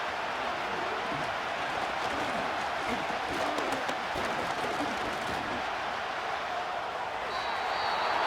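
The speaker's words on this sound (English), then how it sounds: "This crowd turning up the decibel level." A stadium crowd roars steadily in the video game Madden NFL 25 during a Cowboys vs Texans football game. It forms a dense, continuous wash of cheering and noise at a constant moderate level.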